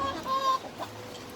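Hens in a small backyard farm flock cluck softly and briefly, with a few close, overlapping clucks and no talking.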